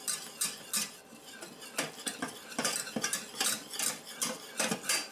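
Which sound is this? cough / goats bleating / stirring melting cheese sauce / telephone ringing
stirring melting cheese sauce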